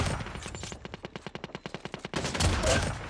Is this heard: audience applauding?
no